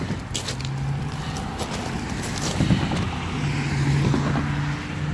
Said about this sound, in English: there's a lot of traffic around